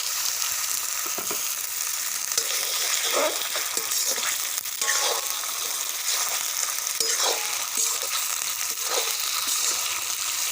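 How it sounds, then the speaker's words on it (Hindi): Chicken pieces fry in a karahi pan with a constant loud hissing sizzle, broken by occasional scraping and stirring clatters, close up and with no talking. "अब हम चिकन फ्राई करेंगे।"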